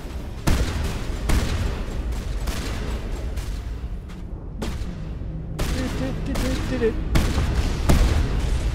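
Heavy gunfire with explosive ammunition in the video game Mass Effect comes as loud, dense bursts of shots and booms that repeat across the stretch without a break, with a voice talking now and then underneath.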